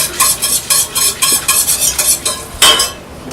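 Gravy stirred in a hot pan, a spoon scraping in a steady repeated rhythm over a constant loud sizzle, close by and with no talk.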